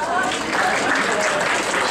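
An audience at an Oregon U.S. Senate debate applauds the timekeeper: dense, steady clapping from a crowd that holds at an even level throughout, with some voices mixed in.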